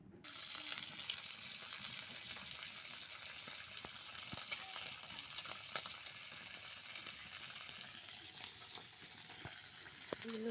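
Fish frying in hot oil gives a steady, dense crackling sizzle that runs the whole time without a break, at a moderate distance and fairly quiet, and no one speaks.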